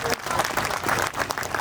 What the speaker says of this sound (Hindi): डॉक्टर शालीन का वेलकम करेंगे तालियां बजा के